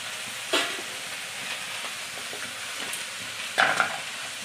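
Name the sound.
frying spices with soybean chunks in a pan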